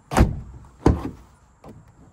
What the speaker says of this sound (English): So let's test this door out.